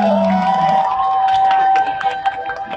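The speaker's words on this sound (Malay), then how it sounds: "Tepuk tangan dulu dong" A crowd at a concert in Tarakan cheers and whoops while a sustained tone rings over the start, then scattered claps and shouts continue more loosely and fade.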